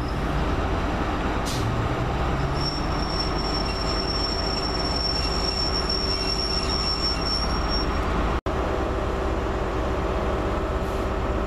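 A train rumbles steadily past on the rails, with a thin high wheel squeal drawn out over several seconds, loud and continuous throughout.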